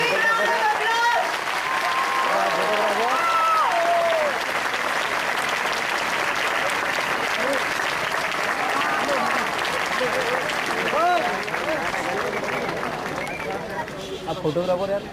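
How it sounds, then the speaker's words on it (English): Sustained audience applause at an engineering college function honouring Dr. A.P.J. Abdul Kalam, dense clapping running steadily for about fifteen seconds with crowd babble and occasional shouts mixed in, swelling slightly near the end. "Give them a big round of applause."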